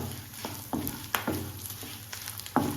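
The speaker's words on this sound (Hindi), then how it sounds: "तो यहाँ पे देखिए इस तरह से कंटिन्यू चलाते हुए हम इसको धीमी धीमी आंच पर अच्छे से भून लेंगे।" Ingredients dry-roast over low heat in a pan while a spoon keeps stirring, giving a soft bed of crackle with several distinct scraping knocks spaced a second or so apart, and no voices.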